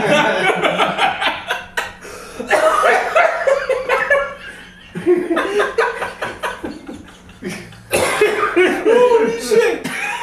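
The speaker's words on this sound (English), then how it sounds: "Sorry about my cough." Repeated coughing bursts from a person at an in-person podcast recording, several harsh coughs spread across the stretch, mixed with chuckling and laughter from others and some talking.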